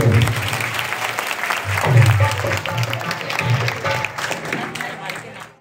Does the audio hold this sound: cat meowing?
no